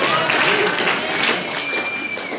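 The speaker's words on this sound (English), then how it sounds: "So let's give a round of applause for the yanker." Audience applause at a puppet slam show in Humboldt County, a short burst of clapping mixed with voices and cheering from a small crowd.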